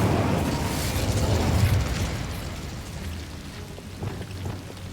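An Incendio fire spell is cast in Hogwarts Legacy, a loud roaring burst of flame that swells over the first two seconds and then fades into a lower crackling rumble, with a faint pop near the end.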